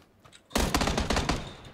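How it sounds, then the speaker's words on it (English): Shotgun fire in the video game PUBG: after a quiet moment, a loud, rapid burst of roughly a dozen sharp, close shots rattles out in quick succession, with no talking. "Oh, he got a fucking shotgun."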